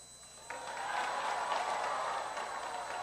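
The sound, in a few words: standing ovation applause at a political convention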